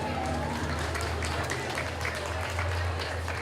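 Audience at a strawberry festival singing competition finals applauding a singer, a steady dense wash of clapping and crowd noise throughout with low background hum.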